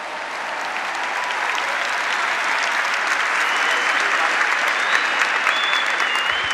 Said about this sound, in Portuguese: Vamos aplaudir a nosso Senhor.